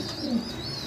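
Pigeons coo softly at a farm, a single low, brief call over faint background ambience.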